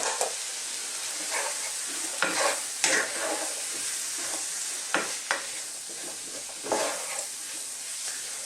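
Chopped garlic fries gently in a pan with onions for classic beef stroganoff, a steady close sizzle broken by occasional stirring scrapes.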